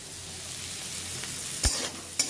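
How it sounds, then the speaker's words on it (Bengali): Bitter gourd fries in a pan with a continuous hissing sizzle, broken by two sharp scraping strokes as a spatula stirs the slices, close and moderately loud. "উচ্ছের ভাজা দিয়ে শুরু করলাম"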